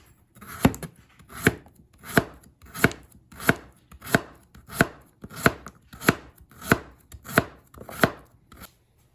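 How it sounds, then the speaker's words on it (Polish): A knife slices a carrot into thin slices on a cutting board, about a dozen crisp, evenly spaced strokes in a slow rhythm. "I marchewkę kroimy na cienkie plastry."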